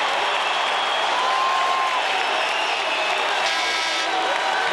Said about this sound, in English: cheering a little louder now